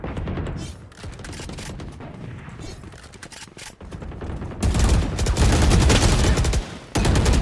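Gunfire in a GTA Soulcity roleplay game session, rapid bursts of close, loud shots, sparse at first and then a dense, sustained volley in the second half.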